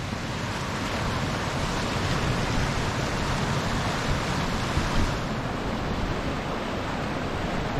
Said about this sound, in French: l'étang là il est en train de se vider puisque le marais il descend.